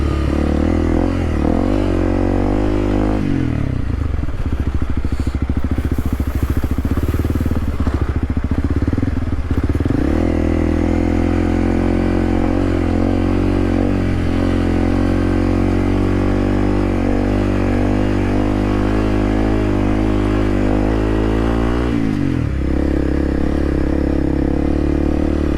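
A dual sport motorcycle runs loud and close along dirt two-track desert trails near U.S. 60 toward Florence, Arizona, its engine droning and revving with shifting pitch, dropping briefly between gear changes, over crackle and clatter from the rough ground.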